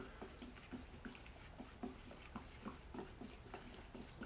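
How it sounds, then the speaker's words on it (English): Plaster coating mix being stirred with water for foam game terrain, a quiet, rhythmic scrape and slosh repeating about every third of a second, faint and close with no voices. "So I'm going to stir and stir."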